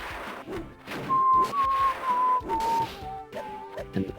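A man whistles a short descending tune of several sustained notes over muffled thumps and knocks from a Windjammers tournament match, the whistling clear and fairly close.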